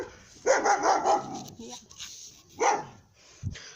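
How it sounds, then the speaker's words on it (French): A dog barks in a few sharp bursts nearby, with a short gap between them and a quick low thump near the end. "les amis, il y a un chien."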